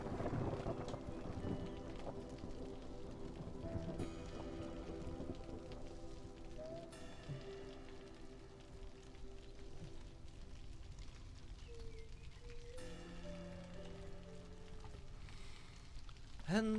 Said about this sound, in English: And the distant thunderclap heralds the oncoming of the dreaded storm.